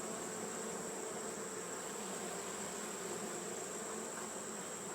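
Honeybees swarming around the top of a hive being smoked, a steady dense buzz with no pauses, fairly quiet and unbroken throughout.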